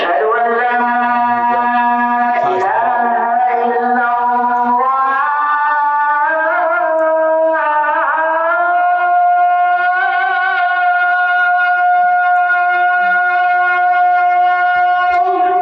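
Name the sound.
call to prayer from a large mosque in Turkey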